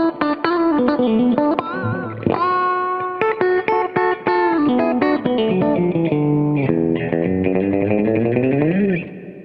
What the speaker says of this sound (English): we've got a reverb if I want to turn a reverb on from stage.